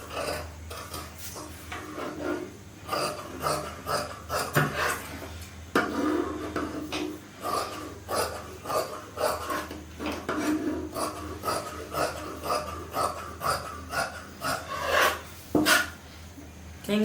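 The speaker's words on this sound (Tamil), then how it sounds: "இப்போ கட் பண்ணிடலாம். இதை கட்டிங் பண்ணிடலாம்." Scissors cutting through blouse lining fabric on a table, a series of short crisp snips and rasping slices in an uneven rhythm, close and moderately loud with no talking.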